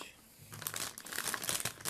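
Paper packaging crinkles and rustles around an Asus Radeon R9 270X DirectCU II Top graphics card being unboxed. The quiet, irregular crackles start after a brief hush and continue with no talking.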